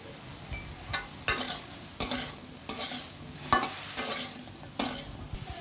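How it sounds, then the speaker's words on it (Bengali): Kochu (taro) and meat are stirred in a frying pan, a soft sizzle punctuated by about eight rhythmic scraping strokes of a spatula against the metal, close and unaccompanied by speech. "এখন এটা একটু নেড়ে ছেড়ে নেব"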